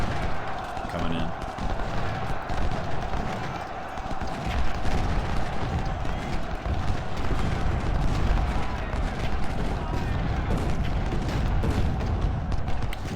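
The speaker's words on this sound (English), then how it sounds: "Looks like there's some artillery coming in." Artillery barrages in the Civil War strategy game Ultimate General at Gettysburg during Pickett's Charge, a steady dense rumble of booms and gunfire filling the whole stretch, with a voice talking over it.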